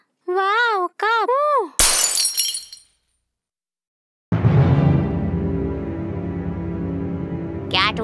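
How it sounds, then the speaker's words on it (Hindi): A cup falls and shatters on a hard floor at home, a sharp loud crash of breaking ceramic with ringing pieces. A child sings just before it, and someone speaks in Hindi at length after a short silence. "मॉम गलती से कप गिर गया और वो टूट गया।"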